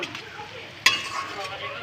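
Onion frying in oil with cinnamon, cardamom and cloves, a steady close sizzle with a single sharp clink or scrape of a utensil partway through, no talk.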